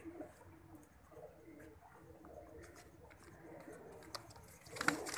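Soft pigeon coos murmur over a busy background of rustling and faint chatter, with a sharper sound near the end.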